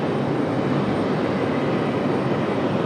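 An American Airlines airliner departing Raleigh-Durham International Airport, heard as a steady, broad jet roar that stays even throughout, with no voices.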